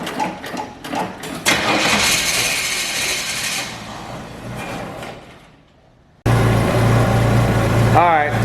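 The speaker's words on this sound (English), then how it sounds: "Alright, so we got it running." An old carbureted engine with a clogged carburetor, primed with starting fluid, churns through noisy cranking before falling quiet, then suddenly catches into a loud, steady running roar for the last couple of seconds.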